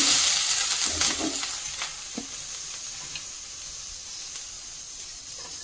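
Mustard seeds, crushed garlic, pepper and cumin sizzle steadily in hot oil, a close, continuous hiss with occasional small pops and spatters, no voices.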